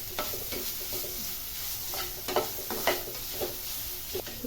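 Ground dried chili and fennel paste frying in a pan, a soft continuous sizzle with repeated close scraping stirs, no voices.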